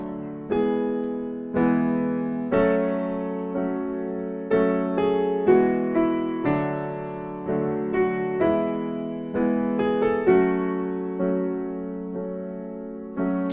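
Piano accompaniment to a song played with both hands: steady rhythmic chords over a low bass line, moderate tempo, clear and close with no voices.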